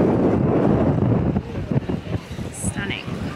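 Strong wind buffets the microphone on a busy Greek island beach beside turquoise sea, a steady broadband roar with gusty bumps, while a person talks over it throughout.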